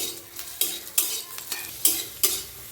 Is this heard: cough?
no